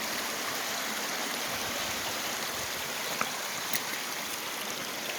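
Water in an Oregon creek flows with a steady, broad rushing hiss, close and constant throughout, with no voices.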